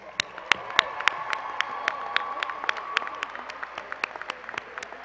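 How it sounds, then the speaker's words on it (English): A graduation crowd at a high school stadium ceremony applauds the senior class cabinet, steady dense clapping from a large audience with a few sharp nearby claps standing out, moderately loud and continuous throughout. "Please join me in a round of applause for all of their efforts."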